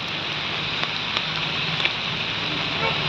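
Intermittent rain falls during a flood on Road 10 toward Malabon, a steady close hiss of drops on surfaces with a few sharp ticks and a low traffic rumble beneath.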